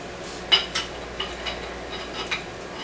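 A Tupperware spatula scraping out a can of meat sauce, several short scratchy scrapes and light clinks spaced irregularly, close and fairly quiet.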